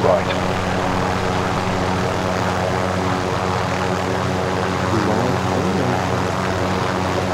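A helicopter flies in the shooter game Call of Duty: Modern Warfare, its engine and rotor drone steady and loud from start to finish, with players' voices talking over it.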